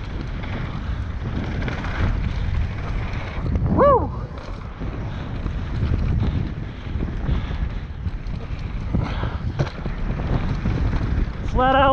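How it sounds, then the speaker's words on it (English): Wind buffets the microphone during a mountain bike ride at Whistler Bike Park, a loud, constant low rumble and roar, with faint chirps and a brief voice barely breaking through. "It's really windy."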